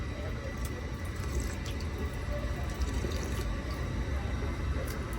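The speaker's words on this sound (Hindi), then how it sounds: "ये पानी पीने का है, सेंसर है यहाँ पे, उंगली में टच कर देने का ऑटोमेटिक पानी आता।" Automatic sensor-operated drinking water tap at an airport running steadily, a continuous close splashing flow over a busy hum of the terminal, with no talking.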